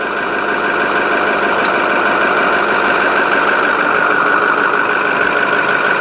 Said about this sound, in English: Compressor was working yesterday, compressor just came on.